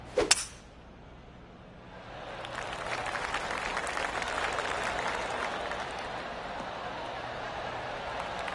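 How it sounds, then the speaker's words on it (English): Golf claps from a course gallery in PGA Tour 2K25: a short sharp strike at the start, then a broad, steady wash of scattered applause spreading around the hole and holding for several seconds. "I can hear the golf claps around the course"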